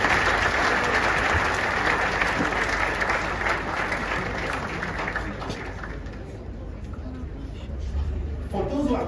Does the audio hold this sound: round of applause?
yes